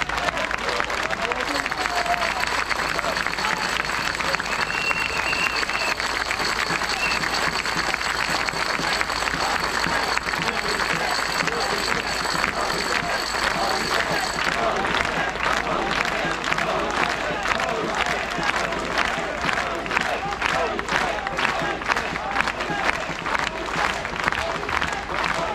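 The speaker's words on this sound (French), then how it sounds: "Merci Marc Goyer, on peut l'applaudir très fort pour son courage et pour la dignité de son combat" A rally crowd on Place Pierre Laroque in Paris gives sustained, loud applause with cheering mixed in, the clapping growing more rhythmic and pulsing in the second half, with crowd murmur and scattered voices under it throughout.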